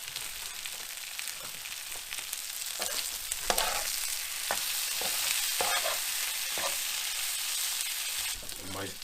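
Potatoes fry with paprika in a pan, giving a steady broad sizzle with scattered scraping stirs and clicks, moderately loud and close, with no talk.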